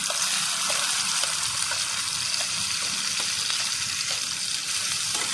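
Chopped onion, ginger and tomato hit hot oil already tempered with five-spice seeds, raising a loud, continuous sizzle with crackling spatter that stays close and constant throughout.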